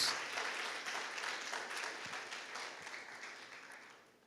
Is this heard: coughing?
no